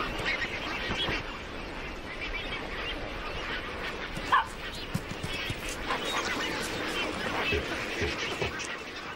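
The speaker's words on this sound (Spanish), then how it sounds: "una miríada de flamencos pulula por esta laguna" A large flock of flamingos calling at a lagoon, a dense continuous honking chatter of many birds, loud and steady, with a voice talking over it.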